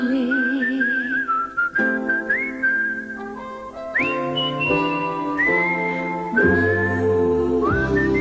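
A postman whistles a cheerful melody on a television show, sliding between sustained notes in clear phrases with brief pauses, loud and close, with no talking.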